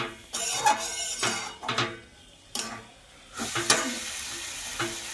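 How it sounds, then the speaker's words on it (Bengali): Chicken being sautéed with sour yogurt in a pan, with spatula scrapes and stirring strokes over a soft sizzle, in several bursts at close range with no talking. "বেশ কিছুক্ষণ কষিয়ে নিয়েছি টক দই দিয়ে"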